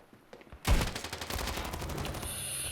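Rapid burst of gunfire from the mobile shooter game Standoff 2, a loud opening shot followed by a steady run of fast repeated shots that continues to the end, with no talking.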